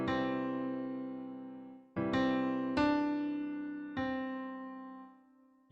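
A keyboard plays a neighbor tone figure from a counterpoint lesson: four clean, moderately soft notes stepping away from a home tone and back, each struck and left to decay, the last one fading out.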